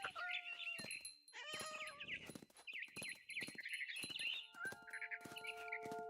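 Cat meows in the video game What Remains of Edith Finch, a close string of repeated high, wavering meows and short cries with brief gaps, with faint bird-like chirps mixed in.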